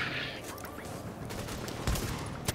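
Enemy gunfire in Tom Clancy's The Division: a rapid crackle of distant shots in loose bursts, with a couple of louder close hits near the end, over steady game background noise and no talk.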